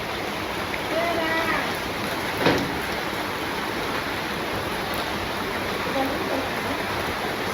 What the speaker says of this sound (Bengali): তখন সন্ধ্যাবেলায় যে মোটামুটি বৃষ্টি নেমে পড়ছে